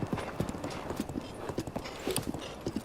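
Horse hooves clip-clopping in a Zelda video game, a steady, fairly loud trotting rhythm of evenly spaced hoofbeats heard close up, with little else beside them.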